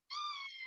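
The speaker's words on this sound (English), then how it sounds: "Sorry, that's my cat." A house cat gives a single clear, high meow close to the microphone, rising briefly then holding steady before fading, against an otherwise quiet room.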